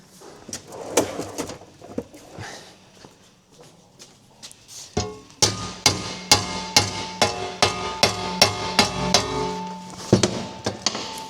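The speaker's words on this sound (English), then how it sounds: "I'm going to get an hammer." A hammer strikes metal to bend a bracket for a Hayabusa-powered K11 Micra build, first a few scattered knocks, then a steady run of loud, regular blows ringing close to the mic.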